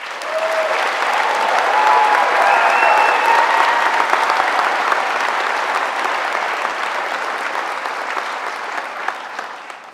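Audience applause at a white coat ceremony for a graduating class: sustained, dense clapping from a large crowd that holds steady for about ten seconds and tapers only slightly toward the end.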